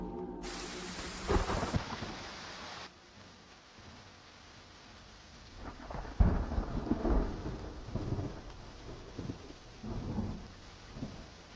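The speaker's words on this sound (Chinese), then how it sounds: "下雨路滑，夫人注意安全。" Steady rain falls with rolling thunder rumbling through it, a hiss of downpour under swelling low booms.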